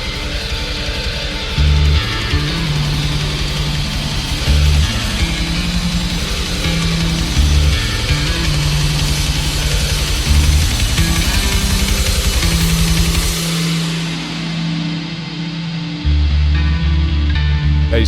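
Dense alternative metal, with heavy distorted guitars, driving bass and pounding drums, plays loud and continuous before thinning briefly near the end and crashing back in.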